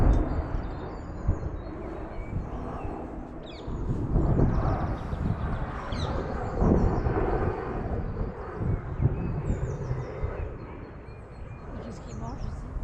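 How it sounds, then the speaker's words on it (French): Airplanes fly over an abandoned village near Paris, a broad low roar that swells and holds, with birds chirping faintly above it and wind rumbling on the microphone. "Là, on entend bien les avions."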